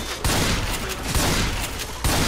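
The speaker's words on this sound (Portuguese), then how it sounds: "Eu atiro e ele me dá outro tiro em seguida." Rapid, dense bursts of gunfire in the video game Left 4 Dead 2 crackle in quick succession, loud and continuous, like a heated shootout.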